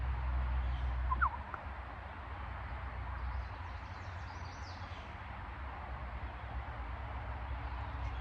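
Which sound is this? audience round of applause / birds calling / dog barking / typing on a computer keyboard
birds calling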